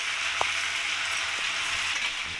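Chicken being stir-fried (kosha) in a pan with spices, garam masala and coriander: a steady, close sizzle with a couple of faint stirring knocks, no voices.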